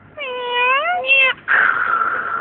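A person imitates a cat, producing a drawn-out, wavering meow followed by a shorter, higher yowl, then a breathy hiss-like cry, close and clear with no other sounds.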